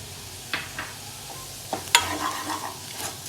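A potato mixture with oregano fries and gets stirred in a pan for potato garlic balls, with a soft background sizzle broken by a few sharp spoon scrapes and taps on the pan.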